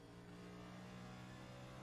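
A steady, droning race car engine in a racing video game hums continuously at low volume, with no talk, during a hot lap at Gateway.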